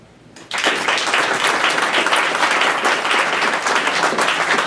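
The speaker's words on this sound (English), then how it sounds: "I'd like to give him a round of applause." Applause from the audience at a county commissioners meeting, a dense, steady wash of clapping that starts abruptly after a brief quiet moment and carries evenly through the rest, fairly loud with no talking.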